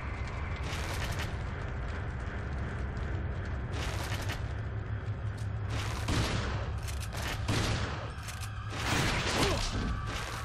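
Heavy gunfire and booming blasts in Resident Evil 4 HD, sounding as dense overlapping volleys of loud shots and explosions that carry on through the whole stretch with a few brief lulls.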